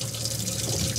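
A boat's live well fill pump runs with steady, close water flow, a continuous rushing and splashing with no talk.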